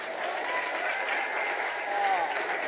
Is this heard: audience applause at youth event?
yes